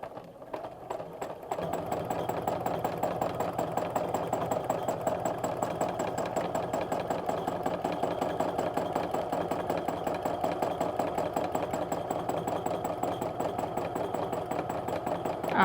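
A home sewing machine stitching a heart border on a quilt, its fast, even mechanical chatter running continuously and close after a brief quiet start, with no talking.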